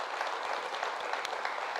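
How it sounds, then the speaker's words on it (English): Crowd at a Fossil watch launch event applauding in a steady, fairly faint wash of many hands clapping together, somewhat distant, with no speech. "So big round of applause."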